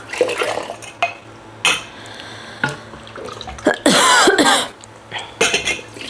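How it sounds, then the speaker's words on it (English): A few short coughs and throat clears from strong vinegar fumes break out between quiet kitchen clatter, close by, with a longer harsh cough near the middle. "So strong, made me cough, this vinegar."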